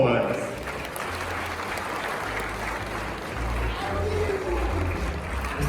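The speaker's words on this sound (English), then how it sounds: "Ladies and gentlemen, a round of applause." An audience at a laptop project launch attended by the president applauds steadily, the clapping soft and spread out across a large space beneath a low rumbling hum.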